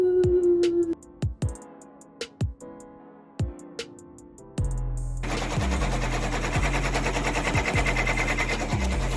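Embroidery machine stitching an appliqué onto a T-shirt: a few sharp clicks and thumps first, then a loud, rapid, steady mechanical chatter of the needle running continuously up close.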